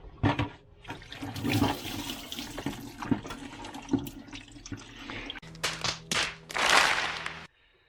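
Engine coolant drains out of a Volvo 240 into a bucket, splashing and gurgling in close uneven bursts with some pouring onto the floor, then a final rushing pour before it stops.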